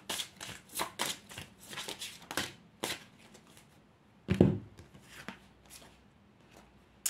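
Playing cards are shuffled and drawn in a quiet room, a series of short papery riffles and flicks at an irregular rhythm, with one louder thump partway through.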